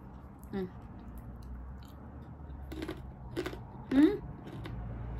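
Someone bites into and chews a crunchy carrot up close, with a few sharp crunching bursts spaced irregularly over quiet background.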